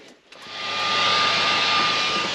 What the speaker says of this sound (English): Little robot vacuum cleaner, nice handy made.